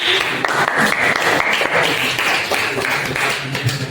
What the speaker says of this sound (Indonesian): Ini tepuk tangan untuk Tom.